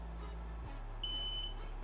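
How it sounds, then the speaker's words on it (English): A single steady electronic beep, about half a second long, comes from the power control button of a Valencia Tuscany Ultimate Luxury Edition home theater seat. It rings out clearly over a low motor hum, with no talking. "keep your finger on this I button until you hear a beep."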